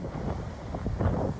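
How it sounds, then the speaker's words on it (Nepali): Strong wind buffets the microphone outdoors, a continuous low rumbling gusty roar with uneven swells, fairly close and steady, with no speech. "हावा चाहिँ यस्तो ठुलो आएछ नि"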